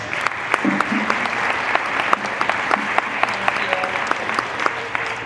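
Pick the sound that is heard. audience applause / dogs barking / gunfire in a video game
audience applause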